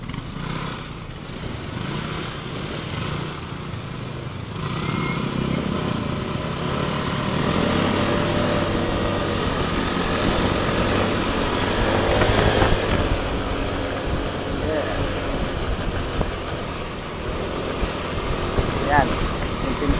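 A motorcycle engine runs with a steady droning hum that grows louder partway through, under bursts of nearby talk.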